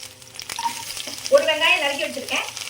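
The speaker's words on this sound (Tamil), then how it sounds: "இதை பூண்டு போட்டு நல்லா வதக்கிட்டு" Garlic and green chilies sautéing in oil in a pan, a soft sizzle with stirring scrapes that swells midway, fairly close with faint background tones.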